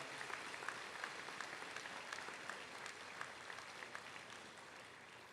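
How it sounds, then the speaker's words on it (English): Steady applause from a crowd at a 2019 high school graduation ceremony, continuous dense clapping at moderate distance with no speech over it. "let's give her one more round of applause"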